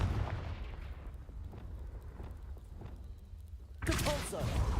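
A Confringo blasting spell explodes in Hogwarts Legacy, a booming fiery blast with a rumbling tail and a second burst near the end.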